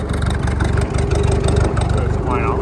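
A New Holland Haycruiser self-propelled hay baler's engine runs at a steady idle with a low, rough rumble, close and loud throughout, while a person talks over it.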